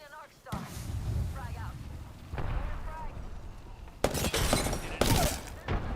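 An arc star grenade goes off in a video game shooter with loud electric bursts and crackling blasts, heard amid game explosions while players talk over it.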